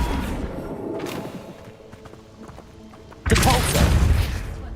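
A Flipendo spell cast in a video game gives a sudden loud, broad blast late in the clip. It follows quieter game sounds and a voice.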